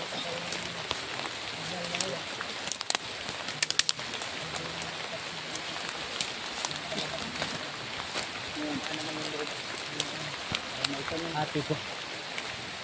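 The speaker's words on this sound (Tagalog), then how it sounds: "Saka ngayon, ulan na rin." Steady light rain pattering on surfaces outdoors, a soft continuous hiss with scattered drips, while people talk quietly over it.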